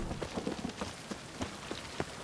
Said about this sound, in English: Even the rain smells different here.